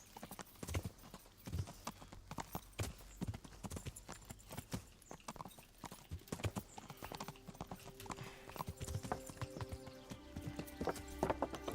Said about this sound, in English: the horses in this game are so clunky